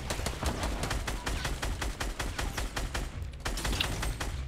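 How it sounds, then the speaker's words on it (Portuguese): Rapid automatic gunfire during a Fortnite duo match, dense repeated shot bursts that stay loud and steady throughout with no talking. "vai jogando, vai dando tiro neles"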